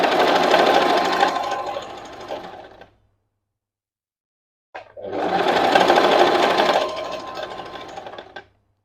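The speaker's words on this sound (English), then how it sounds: "if you are used to the sewing machine, you can just step on the press" A sewing machine stitching a double weft of hair runs in two steady motor-driven bursts of rapid, loud mechanical chatter, close by, separated by nearly two seconds of silence.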